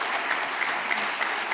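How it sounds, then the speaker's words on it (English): Steady audience applause at a data journalism awards ceremony in Barcelona, a dense, even patter of many hands with no voices. "please a round of applause."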